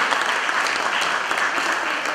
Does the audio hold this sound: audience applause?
yes